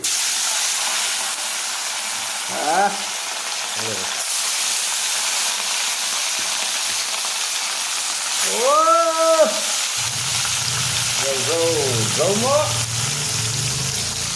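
Salted, turmeric-rubbed rohu fish fries in a hot kadai with a steady, loud sizzling hiss throughout, while a few brief tonal voice-like sounds rise over the frying.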